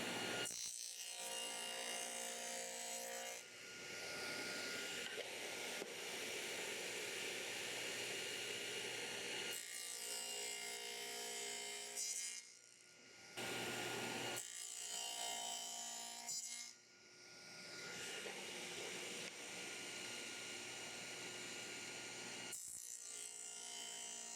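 A saw cuts a quarter-inch dado along the short edge of wooden drawer side pieces, a steady close whirring rasp of blade through wood that drops out briefly twice between passes.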